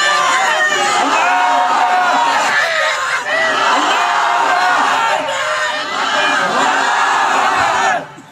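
A large crowd at a Bengali Islamic sermon roars a takbir chant in unison. The massed shouting is loud and close, swelling in three long waves before cutting off abruptly near the end.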